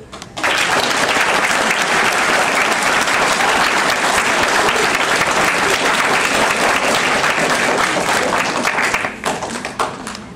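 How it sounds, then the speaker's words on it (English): Dense applause from an audience after a school class assembly, loud and steady for about nine seconds before tapering off. "give them another round of applause"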